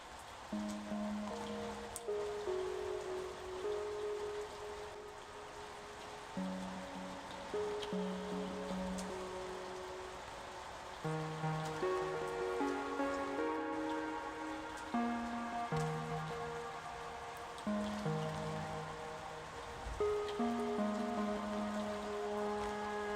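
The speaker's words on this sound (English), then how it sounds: "I used my phone to record a sample of the rain and just threw it in the SP." Phone-recorded rain played back from an SP-404 MKII sampler, a steady wash of rainfall patter sitting under analog synth loop chords that drift in and out throughout.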